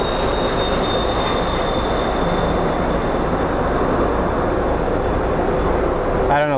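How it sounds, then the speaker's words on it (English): The Phoenix Sky Harbor airport SkyTrain runs past with a steady, loud rolling roar and a thin high whine held throughout, with a brief brighter squeal near the end. "the sound you're hearing is our SkyTrain."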